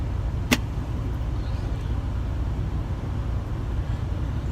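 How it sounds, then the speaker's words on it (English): A truck engine idles close by with a steady low rumble as it pulls up alongside, a short sharp click near the start, no talking. "The guy in the truck next to me just pulled up."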